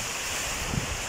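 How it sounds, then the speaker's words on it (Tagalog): Strong typhoon wind under a Signal No. 3 storm warning in Nueva Ecija, a continuous roaring rush buffeting the microphone with a low gust thump near the end. "Ano ito kalakas ngayon ang bagyo, ang hangin."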